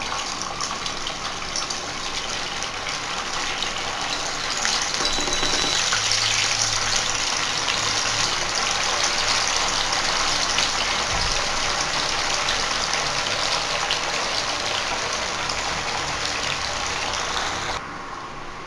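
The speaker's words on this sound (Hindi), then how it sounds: "तो ये बाटियों को हमने ऑयल में डाल दिया डीप फ्राई होने के लिए।" Bafla bati dough balls sizzle steadily as they deep-fry in hot oil in a kadhai, a dense, continuous bubbling hiss that stays loud and even before dropping off near the end, with no talking.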